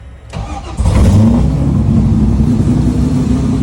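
A Nissan 240SX cranks and fires up, settling into a loud, close, steady rumbling idle with no talking.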